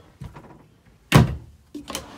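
A cabinet door closes inside a 2021 Grand Design Imagine 2400BH travel trailer with overhead storage, a few soft taps followed by a firm thunk and a lighter knock.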